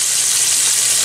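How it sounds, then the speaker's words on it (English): Grey snapper steaks, floured and cornstarch-dusted, crackle in frying oil as a brief, even hiss of sizzling close by, with no one talking. "A simple fried gray snapper."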